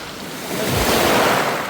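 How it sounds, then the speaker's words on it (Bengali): Big sea waves break and surge, a loud broadband rush that swells midway and holds, with wind buffeting the microphone. "বিশাল বিশাল ঢেউ"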